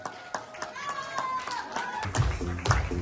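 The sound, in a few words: audience clapping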